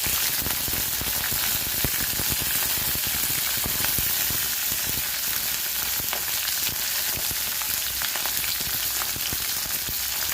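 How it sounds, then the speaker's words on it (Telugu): Green chillies frying in hot oil give a dense, steady sizzle and crackle that holds loud and close throughout, with no voices over it. "ఇప్పుడు ఆయిల్లో పచ్చిమిర్చి వేయించుకొని"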